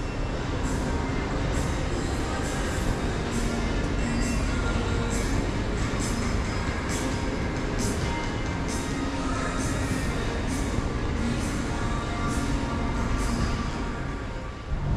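A BTS elevated metro train in Bangkok rolls past with a dense, continuous rumble and a rhythmic series of faint high clicks from the wheels, steady throughout.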